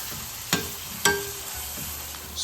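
Sliced shallots sauté in a pan of hot oil with curry leaves for an Erode-style Pallipalayam chicken curry, giving a steady soft sizzle broken by two sharp stirring knocks and a fainter third one.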